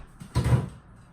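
A kitchen refrigerator door opens with a single short, dull thump and soft rustle, close by and brief, followed by quiet.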